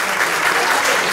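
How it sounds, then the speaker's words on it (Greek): Dense, steady applause from an audience at an election rally in a cafe in Lagonisi, a continuous wash of clapping with no pauses, loud and close throughout. "Και θέλω ένα χειροκρότημα"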